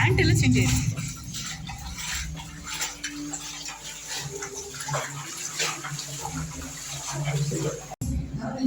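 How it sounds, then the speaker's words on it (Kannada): Water rushes and flows steadily in a continuous wash through a channel at a temple in Goa, with faint voices and clatter in the background. "ಆ ಕಡೆಯಿಂದ ಬಂದ ನೀರೆಲ್ಲ ಈ ಕಡೆಯಿಂದ ಔಟ್ ಸೈಡ್ ಹೋಗ್ತದೆ"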